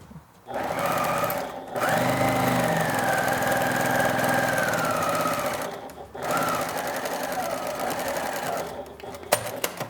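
Sewing machine stitching cotton fabric seams for a bustier dress, a steady close whirring run with a brief pause and restart, then a final short burst.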